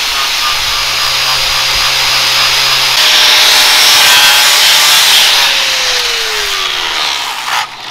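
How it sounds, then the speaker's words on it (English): A flap disc on an angle grinder polishes aluminum carport parts with a loud, continuous abrasive whine and grind, its pitch dipping partway through as load changes, then cutting off at the end. "And then a flap disc or one of these to polish it up."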